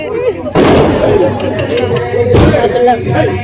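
Sharp firecracker bangs burst out during Vinayaka Chavithi festival celebrations, one loud crack early and another a couple of seconds later, over a busy crowd chattering nearby.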